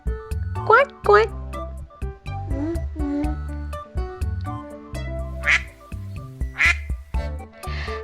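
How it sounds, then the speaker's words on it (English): A duckling quacks repeatedly in short, nasal calls with uneven gaps between them, heard up close. A few sharper, higher bursts stand out among the calls. "This is a baby duck, duckling. Quack, quack, quack, quack."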